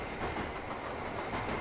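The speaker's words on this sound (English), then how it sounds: "Here comes the train." Train in the video game The Silver Case, a steady rumbling rush with faint rhythmic clatter and hiss, moderately loud and continuous with no talking.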